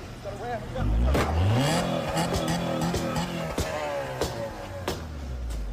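A car engine runs and revs loudly during a police stop in a tense roadside confrontation with ICE agents, the motor surging and droning throughout while people shout over it.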